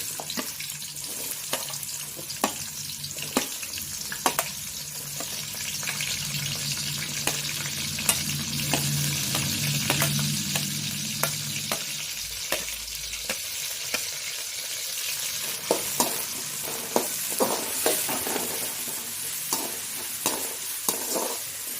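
Sliced onions fry in hot oil in a kadai for a brinjal and field-bean gravy, a continuous close sizzling hiss punctuated by frequent sharp clicks and scrapes of a spatula stirring the pan.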